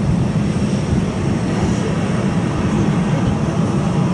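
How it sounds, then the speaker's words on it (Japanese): A small airplane's engine roars loudly and steadily at Chubu Centrair airport, heard from an open observation deck as a dense, continuous drone with no talk over it. "ちっちゃい飛行機だな、これも。"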